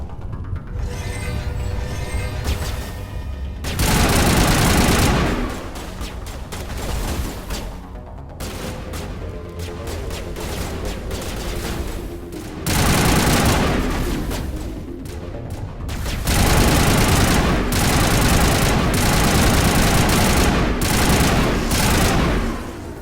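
Dense bursts of automatic gunfire and heavy shots in the video game Mass Effect, loud and sustained in several waves with brief lulls between them, layered with game effects.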